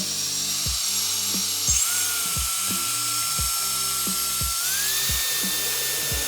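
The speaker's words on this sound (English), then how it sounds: "So let me get my dry packs blower." A car drying blower runs with a high, steady whine that steps up in pitch twice, close and loud, with sharp rhythmic ticks and knocks underneath.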